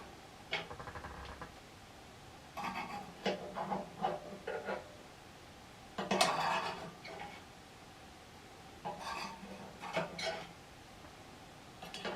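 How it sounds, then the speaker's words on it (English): A metal spoon scrapes and taps inside the small firebox of a pellet stove, scooping out ash in short irregular clusters of clinks and scratches, close and moderately quiet, with pauses between scoops. "I basically just take this spoon, scoop out the heavy bits"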